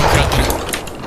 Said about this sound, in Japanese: 発砲音の迫力が強いって感じ る。